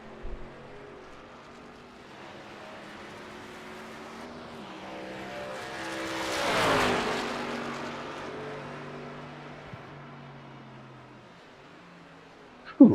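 A Kodiak race car from a sim racing oval series roars past, its engine drone swelling steadily to a loud peak around the middle and then fading away, with pitch shifting as it works through sharp turns.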